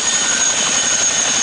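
Loud, steady CH-47 Chinook transport helicopter engine drone with a high turbine whine held continuously throughout, close and unbroken.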